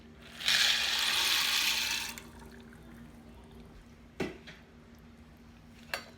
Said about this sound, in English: Now I'm going to add my half a cup of macaroni noodles.